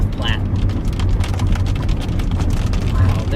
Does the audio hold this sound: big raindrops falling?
yes